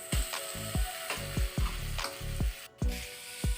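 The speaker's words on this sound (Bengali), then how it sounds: "এবার দিয়ে দিব ভেজে রাখা আলু।" Pre-fried potatoes added to a pan of frying tomatoes and onions for a Bengali fish and potato dish, loud continuous sizzling with a regular run of close scraping, knocking stirs against the pan.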